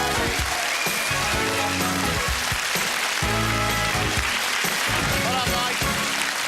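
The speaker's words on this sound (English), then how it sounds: "Give him a big round of applause." Studio audience applause on a 1997 TV game show, a steady broadband patter of clapping running the whole stretch with music or voices mixed in beneath it.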